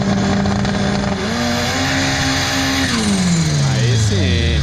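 Two VW Gol cars launch side by side at a drag race, engines revving hard in rising and falling pitch sweeps, loud and close, with one note climbing then dropping through gear changes under crowd chatter.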